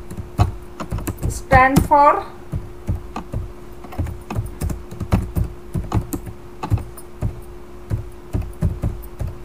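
Typing on a computer keyboard while writing text in the Linux vi editor, a steady run of close, crisp key clacks at an uneven rhythm, with a short burst of speech near the start.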